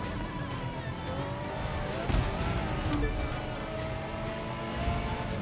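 A Ferrari racing in a video game: a steady, loud engine drone with shifting revving pitch and faint tire noise, continuous throughout.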